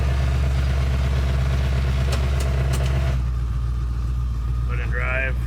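The supercharged LSX V8 in a 1970 Chevelle idles with a steady, deep droning rumble close by. The tone shifts partway through, and a voice speaks briefly near the end.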